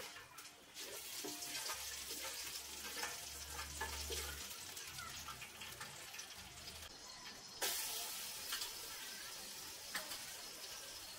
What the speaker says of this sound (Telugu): కొంచెం నూనె లేదా నెయ్యి వేసి ఇందులోనే 1/2 టేబుల్ స్పూన్ సాజీరా, సగం జాజికాయ, ఒక మీడియం సైజు దాల్చిన చెక్క, 2 లవంగాలు, 2 యాలకులు వేసి ఓ 1 నిమిషం దోరగా వేయించండి